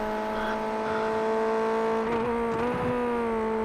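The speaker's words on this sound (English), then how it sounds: "you hear the way Kyle gets that car down in through the gears into turn one" A Formula Ford race car heard at close range, its engine droning steadily and then dipping and blipping as it downshifts through the gears, with a brief squeal in the middle.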